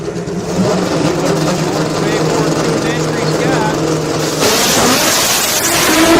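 A drag racing car accelerates hard down the left lane at a spring nationals drag race, its loud, steady engine roar growing even louder near the end, with a commentator talking over it throughout.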